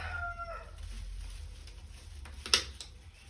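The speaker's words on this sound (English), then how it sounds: "If you hear that cockerel" A rooster crows faintly in the distance over a steady low hum, followed later by a brief sharp click.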